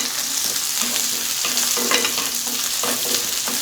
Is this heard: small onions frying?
yes